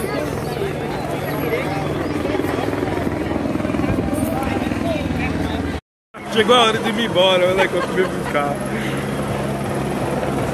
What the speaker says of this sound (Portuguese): O helicóptero veio me buscar